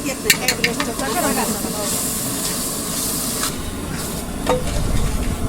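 Coconut and sesame spice paste masala roasting in a pan gives a steady hiss and sizzle with occasional scraping stir clicks, close and continuous, for a village fair feast.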